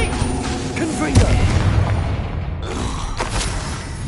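A fiery Confringo blast spell from Hogwarts Legacy, a booming burst about a second in amid dense, continuous battle noise and other spell effects, fairly loud throughout.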